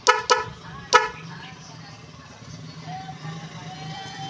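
A music horn installed in a Nissan Serena honks in three sharp, loud blasts near the start, followed by engine idle and a low background hum with faint voices.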